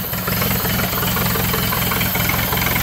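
A 1926 doodlebug tractor with its original motor idles steadily and loudly up close. The engine chugs and throbs with a continuous mechanical rattle and vibration.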